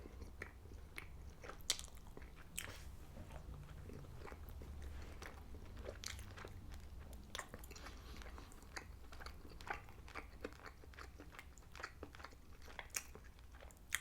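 Eating honey garlic chicken drumsticks close to the mic, with repeated bites and chewing sounds spread evenly over a steady low room hum and no talking.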